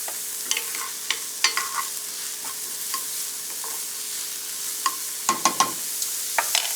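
Onions sautéing in a pan over low-medium heat with a little salt and pepper for a small quiche, a soft continuous sizzle broken by sharp scraping stirs and clinks, several grouped near the end, with no talking.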